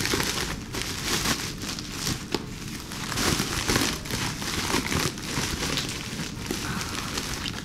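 Plastic FedEx mailer bag being cut open, a continuous close crinkling and crackling of plastic with irregular rustles and small snaps, no talking.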